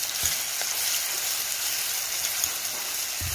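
Steady, loud sizzling and crackling of chili frying in hot oil, with a few soft stirring knocks, close up and continuous.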